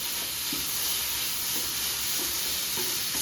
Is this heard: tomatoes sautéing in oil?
yes